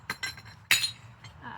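A hammer strikes an old terracotta pot, giving a few sharp clinks and cracks close by, with one hard break near the middle, during repotting of a hellebore.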